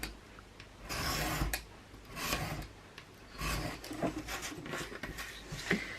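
Cardboard for an album spine is cut with close, rasping strokes, several drawn-out scraping passes separated by short pauses.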